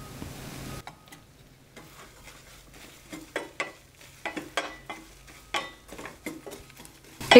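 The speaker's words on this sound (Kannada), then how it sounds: "ಕರಿಬೇವು ಹಾಕ್ತಾಯಿದ್ದೀನಿ. ಸ್ವಲ್ಪ ಎಣ್ಣೆಲಿ ಫ್ರೈ ಆಗಲಿ ಇದು." Curry leaves, turmeric and asafoetida crackle and spit in hot oil for curry-leaf chitranna, with sharp irregular pops growing denser and louder over a soft background sizzle.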